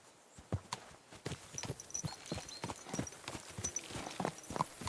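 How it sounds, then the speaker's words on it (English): Horse hooves clip-clop steadily in the medieval game Kingdom Come: Deliverance 2, a quiet, even walking rhythm of sharp hoof strikes with faint ambient noise behind. "This horse must have cost a pretty groschen."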